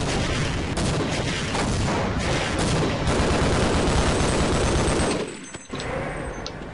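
Enemy gunfire in Half-Life, heard as dense, loud shooting that runs almost without a break, then cuts out briefly near the end before more firing follows.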